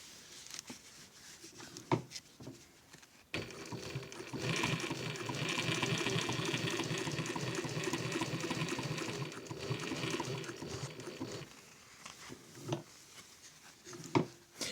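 An Adler 167-73 industrial sewing machine stitches heavy Sunbrella canvas and straps, a steady close mechanical whirr running for about eight seconds, framed by brief clicks and handling knocks before and after.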